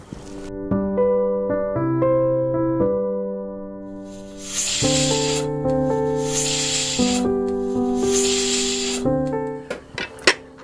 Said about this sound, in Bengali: আমার প্রেসার কুকারে দম বসে গেছে।